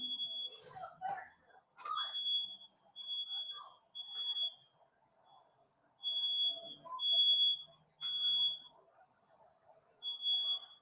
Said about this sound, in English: Somebody's fire alarms outside is going off.